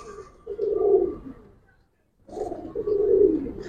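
Giribaz pigeons being handled, giving two low, throaty cooing bouts separated by a short silence, close by.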